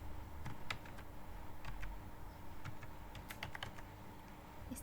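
Computer keyboard typing in Microsoft Visio, quiet and close, with scattered key clicks in irregular bursts over a steady low hum and no one talking.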